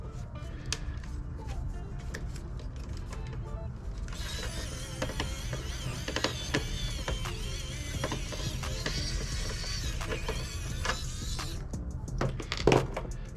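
A screwdriver works a screw out of a PlayStation 3 console during a repair, with creaking, ratcheting clicks and small mechanical rattles close by, one sharper clack near the end.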